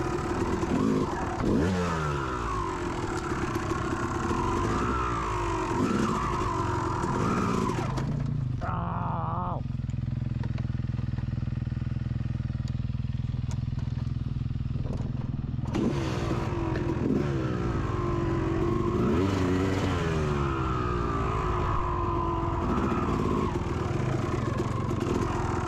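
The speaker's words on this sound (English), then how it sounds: "I was really over kickstarting this bike." Dirt bike on a Brock Creek single-track trail after being kickstarted: the engine runs loud and close with repeated revving surges, drops to a steadier lower drone midway, then revs hard again.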